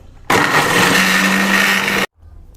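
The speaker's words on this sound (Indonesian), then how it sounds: "Kita blender teman." An electric kitchen blender whirs loudly and steadily for nearly two seconds, grinding spices for a catfish marinade, starting abruptly and cutting off sharply with quiet before and after.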